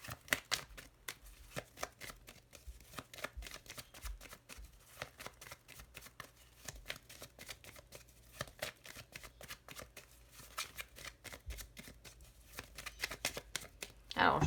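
Lenormand tarot cards being shuffled in a steady stream of crisp, papery riffles and flicks that carry on close-up throughout, with faint talk in the background.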